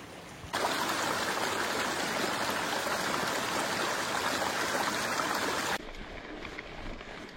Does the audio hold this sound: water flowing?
yes